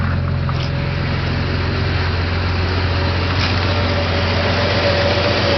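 A built Ford 300 inline six with a carburetor and choke idles steadily while warming up, a loud, continuous low rumble with even engine harmonics and no voices.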